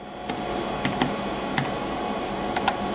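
Value being typed into a CNC machine control, a few sparse, separate key taps over a steady machine hum, close and fairly quiet.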